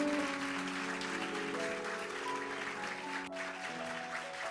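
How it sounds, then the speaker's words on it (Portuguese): A church congregation applauds softly and evenly from a distance while sustained keyboard or organ chords play over the clapping. "dá uma salva de palmas para o Senhor"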